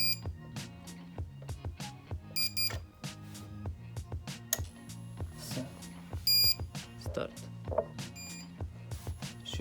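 Uninterruptible power supply running on AGM batteries, beeping after being switched on: a sequence of sharp electronic beeps in an irregular rhythm, some short and some held, close and fairly loud, with no talk over them.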